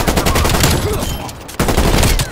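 Rapid bursts of gunfire in the video game Call of Duty Cold War crackle loudly and densely for about two seconds, with a brief lull before the shooting resumes.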